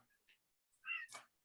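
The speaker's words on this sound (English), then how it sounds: "Yes, meow." A house cat named in passing meows once in a quiet indoor room during a houseplant repotting session, a short rising cry after a couple of faint earlier sounds.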